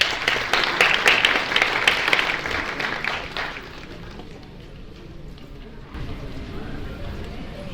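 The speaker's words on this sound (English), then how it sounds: "Can we have a huge round of applause for all our guests?" Applause for guests at a fundraising lunch, a dense burst of clapping that is loud at first and then fades out into room noise and murmuring.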